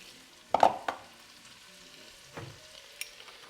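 Onions dropped into melted butter in a heavy Dutch oven over medium heat, a brief burst of sizzle and a couple of stirring knocks, then quieter, fainter crackle with a few light clinks.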